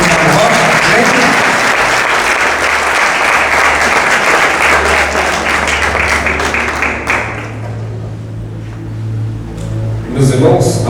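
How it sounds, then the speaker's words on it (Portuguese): A church congregation applauds loudly and steadily for about seven seconds before the clapping fades, leaving a low hum and then a few scattered claps. "Nós vamos receber com a linda salva de palmas"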